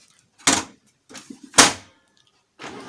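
The cover of an HP LaserJet 2300 printer is pushed shut, giving two sharp plastic clunks with softer handling rattles between them and a faint start of printer noise at the end, close by and with no talk.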